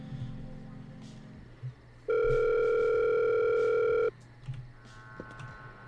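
A telephone dial tone sounds as a steady, loud electronic hum for about two seconds in the middle, cutting off abruptly, with quieter handling noises and faint clicks around it.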